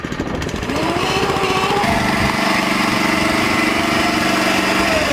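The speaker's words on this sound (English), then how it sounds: "This sod cutter even has a reverse mode." A Bluebird sod cutter's Honda engine runs loud and close, a steady buzzing drone that shifts pitch partway through as the machine changes load, then holds an even, slightly rattling tone to the end.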